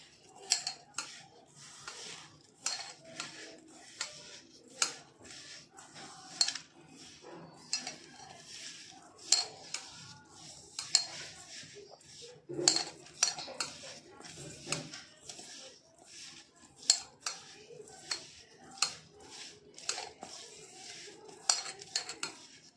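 A utensil mixes stuffing ingredients in a bowl for stuffed brinjal curry, producing repeated quiet metallic clinks and scrapes in an uneven rhythm over about twenty seconds, each knock short and close.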